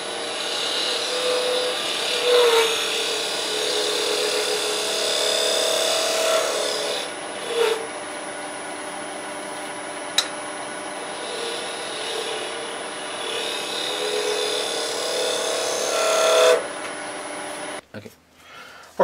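A wood lathe spins a bottle stopper blank on a mandrel with tailstock support, giving a steady whirring hum with rasping tool contact that swells at intervals before the lathe stops near the end.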